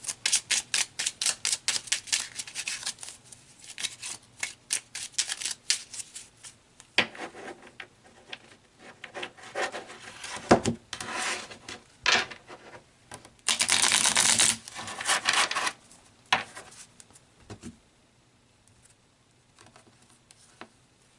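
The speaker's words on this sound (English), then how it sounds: "Let's pull some tarot cards and add to this." Tarot cards are shuffled and drawn: a quick run of crisp riffling clicks opens, followed by scattered softer taps, slides and brief bursts of card handling, close and fairly quiet, with no speech.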